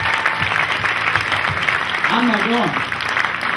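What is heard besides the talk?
audience applause for performers at house concert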